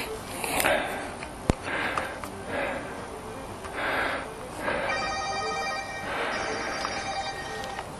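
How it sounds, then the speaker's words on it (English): A phone rings in a workshop during a Stihl chainsaw ignition coil repair, repeated ring bursts coming in bunches amid sniffs and other faint handling noise. "That's my phone."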